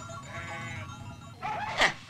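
Sheep bleat a couple of times, a wavering cry near the end following quieter background murmur, fairly close and brief.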